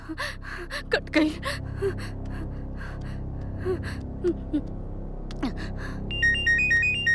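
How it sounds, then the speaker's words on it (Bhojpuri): A phone ringtone chimes near the end of an indoor scene from a Bhojpuri film, a short melodic electronic tune that starts after heavy gasping and whimpering breaths, with no talking. "केकर फोन आवे?"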